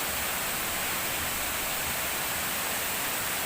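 Water rushes steadily from a jungle waterfall and river crossing in a forest, a dense, even broadband roar that fills the scene with no pauses and no voices.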